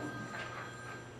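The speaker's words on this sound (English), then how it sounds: "I'm sorry about the phone" A telephone rings in a city council chamber, a faint electronic trill that warbles briefly over a steady background hum, with no speech.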